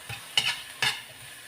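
Fresh shrimp paste (alamang) sautéing in a pan for pakbet, with two or three quick scraping stirs over a soft sizzle.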